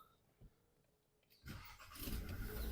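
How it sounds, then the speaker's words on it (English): A 2023 Nissan Qashqai engine cranks and catches, starting after a quiet moment with a faint click, then settling into a loud, steady running rumble close by. "and start the car."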